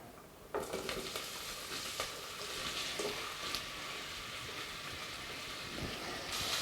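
Onions sizzle and crackle in hot oil in a pot, a steady frying hiss with occasional sharper pops and a clink or two from stirring.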